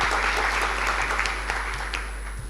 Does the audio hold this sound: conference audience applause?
yes